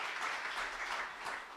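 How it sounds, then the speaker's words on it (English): A church congregation at a Sunday service claps briefly for the mothers on Mother's Day, a short, dense round of applause. "Round of applause for all the mothers,"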